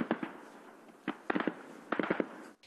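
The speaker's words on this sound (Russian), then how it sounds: "над позициями армейцев по-прежнему раздаются выстрелы" Sharp cracking gunshots over army positions in Donetsk region, in several quick clusters, single shots then rapid bursts, ringing out over a steady background hiss.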